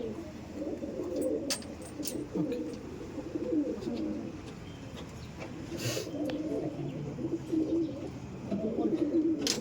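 Small short-size Chotial pigeons coo steadily in a loft, a low continuous murmur of several birds with occasional wing flutters and clicks, fairly faint overall.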